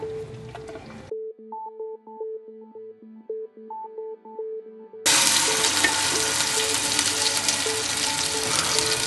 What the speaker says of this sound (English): Once the oil's in, we pour in the rather spicy mixture.